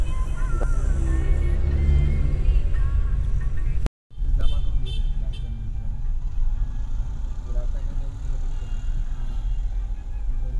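A car travels by road early on a cold, foggy morning toward Bhimashankar, its low engine rumble and road noise steady throughout, with a brief dropout midway and family voices talking over it.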